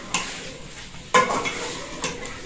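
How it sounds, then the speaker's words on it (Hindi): Potatoes tipped into a pot of cooking chicken and masala: a few sudden clattering drops and stirring scrapes stand out over a low, quiet sizzle, with short pauses between. "अब हम इसमें आलू डालेंगे"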